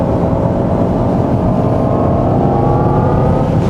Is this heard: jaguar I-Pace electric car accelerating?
yes